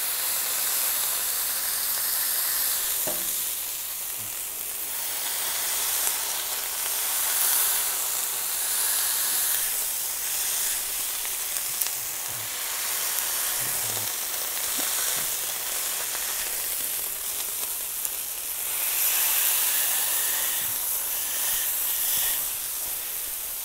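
Smash burger meat sizzles steadily on a hot griddle, a continuous hiss with a few small pops and crackles, with no voices.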